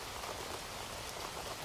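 Steady rain falls without pause, a soft, even hiss of drops that stays constant throughout, with no voices.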